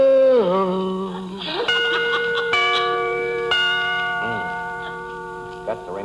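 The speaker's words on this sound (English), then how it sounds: "Got to remember to get them chimes made softer." Clock chimes in a Christmas radio drama ring out in a series of clear, resonant strikes that each hang and fade, following a brief voice at the start.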